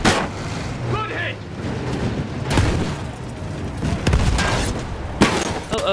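Tank cannon fire in Battlefield 1 thunders in several heavy booms amid constant battle rumble, with shouted voices over the top.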